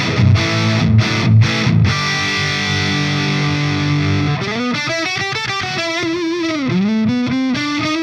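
Electric guitar played through a BOSS DS-1 Waza Craft distortion pedal: sustained, thick overdriven chords and muted chugs, then a bright gain-heavy lead line with bends, loud, close and unbroken with no talk.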